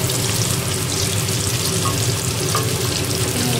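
Pieces of jackfruit-seed dhoka frying in hot oil in a home kitchen, giving a loud, close, continuous sizzle and crackle that stays steady throughout, with no talking.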